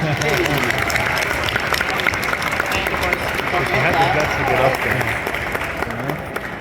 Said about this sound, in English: round of applause for Cora